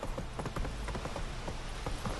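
A horse's hooves clip-clop at a steady walking rhythm, close and clear, in The Witcher 3: Wild Hunt video game.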